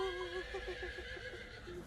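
A horse neighing, a short run of wavering whinnies of close, moderate loudness, with no talk over it.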